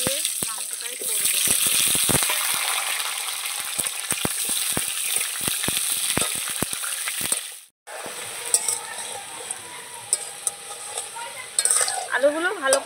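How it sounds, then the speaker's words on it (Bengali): Potatoes frying in oil in a pan, a dense close sizzle with sharp crackling pops, then a brief pause before quieter frying with stirring clatter and scattered sputters. "আলুগুলো ভালো করে ভেজে নিয়েছি, দেখুন।"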